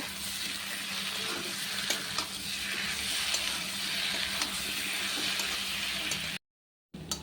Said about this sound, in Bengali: তো এখন একসঙ্গে এই সবগুলোকে কষিয়ে নেব